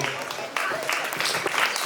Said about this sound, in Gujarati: આપણે સૌ તાળીઓથી વધાવીએ.